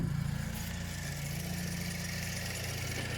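A Ford radiator cooling fan runs in a steady, loud, continuous whir with a low mechanical hum, holding even throughout with no talking.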